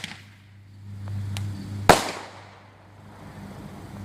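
A Rapid Fire (Tommy Gun) roman candle firework goes off outdoors with a couple of faint pops and then one sharp, loud crack over a quiet low engine-like hum.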